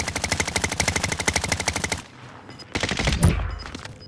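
Rapid automatic gunfire in Call of Duty: Modern Warfare, a loud close burst of evenly spaced shots for two seconds, then a pause and more muffled firing and impacts.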